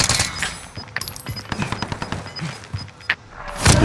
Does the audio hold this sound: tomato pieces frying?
no